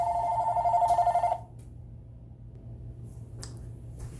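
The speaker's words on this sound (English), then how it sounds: "If my phone rings, I'm going to answer it" A telephone ringing indoors in a home kitchen, one loud electronic ring burst of about a second and a half, followed by quiet room tone and a faint click.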